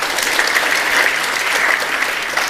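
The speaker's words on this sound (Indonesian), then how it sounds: "Tepuk tangan." Applause from a congregation at an Easter worship service, a dense, sustained clapping that stays loud and even throughout, with no talk over it.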